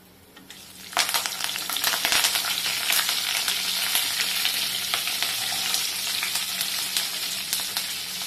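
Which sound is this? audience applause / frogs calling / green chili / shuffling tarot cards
green chili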